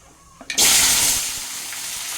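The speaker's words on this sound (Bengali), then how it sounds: "কালো জিরে ফোড়নটা আমার হয়ে গেছে ফোড়ন থেকে ধোয়া উঠছে তেলের থেকে এবার এই সমস্ত সবজিগুলোকে আমি এখানে দিয়ে দিয়ে দিচ্ছি" Vegetables tipped into hot mustard oil tempered with nigella seeds for a fresh drumstick chorchori, giving a sudden loud burst of hissing sizzle that settles into a steady, strong frying hiss.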